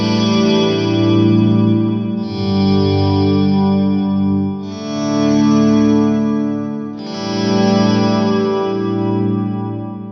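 An Axe FX3 quad parallel multi-tap delay carries slow guitar swells. Four sustained chords fade in one after another, each smeared into a dense, chorused wash of echoes that is loud and continuous with no gaps.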